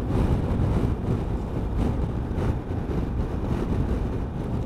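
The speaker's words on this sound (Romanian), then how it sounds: "Mamă, dar ce vânt e." Strong wind buffets the microphone while driving on a road in Suceava county, Bucovina, Romania, a loud, steady roar that fills the whole stretch and drowns out the engine, with no talking.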